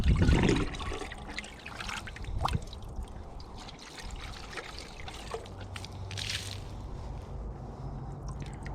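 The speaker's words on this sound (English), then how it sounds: "rinsing it out, cleaning out any of the sediment that was built up, trying to get this as clean as we can" Water trickles and splashes steadily while sediment is rinsed out of an off-grid water filter housing, a close, continuous running sound with small drips and squishes, stronger at the start.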